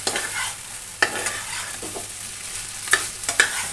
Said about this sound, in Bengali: এবার ঢাকনা খুলেই কিছুক্ষণ ভালো করে নেড়ে চেড়ে কষিয়ে নেব।